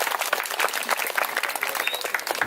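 Applause from an audience at a Calonarang performance at Pura Suci, Banjar Bangkiang Sidem, with steady dense clapping throughout the short stretch, fairly close and even.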